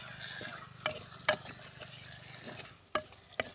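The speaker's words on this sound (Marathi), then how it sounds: "मिक्स करून घेऊया।" A spatula scrapes and clanks in a pan of potato and sesame vegetable stir-fry, a few sharp metallic knocks over a faint low sizzle, close and quiet between strokes.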